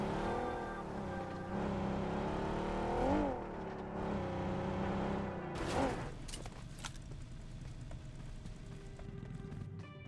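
Vehicle driven in PUBG Mobile: a steady droning engine tone that rises and dips with revs, then gives way after a few seconds to scattered clattering game sounds, all fairly quiet.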